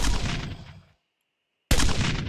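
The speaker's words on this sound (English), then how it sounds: "Just randomly shoot missiles at the wall." Missiles fired at a wall in a video game: a loud booming burst that fades out, a short silence, then a second sharp blast that starts abruptly and rumbles on.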